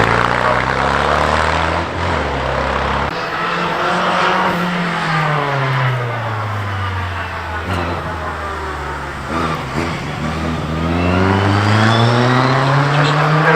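Vintage rear-engine racing car at the VSCC Prescott Hillclimb, its engine loud and close as it revs, falls away, then climbs sharply again while accelerating past, with a commentator speaking over it.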